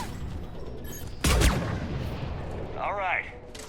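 A single sharp gunshot rings out in Mass Effect 3, loud and close with a short echoing tail, over a steady background of game ambience and a brief whooshing effect afterward.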